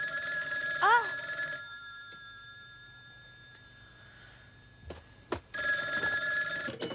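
A telephone bell rings in one short trilling burst near the start, then a steady electronic tone hums on, with a brief clatter and a second ringing burst toward the end.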